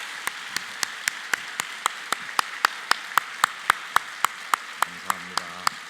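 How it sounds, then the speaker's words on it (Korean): A church congregation claps together in a steady, even rhythm of single sharp claps, fairly loud and lively, with a faint low hum briefly underneath near the end. "축복과 격려의 박수를 한번 보내주십시오"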